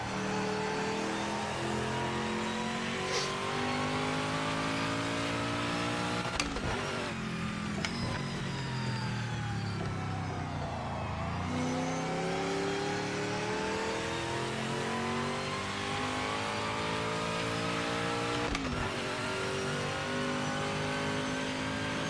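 A V8 car engine in a racing video game revs continuously, its pitch climbing and falling through repeated accelerations with brief gear-change dips, loud and alone with no talk.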